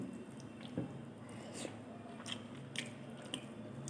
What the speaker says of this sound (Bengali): এখন খাচ্ছি হচ্ছে জলপাইয়ের তরকারি দিয়ে, টক দিয়ে।